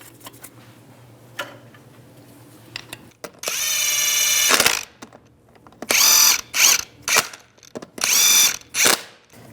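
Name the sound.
tightening wheel lug nuts, Chevy Trailblazer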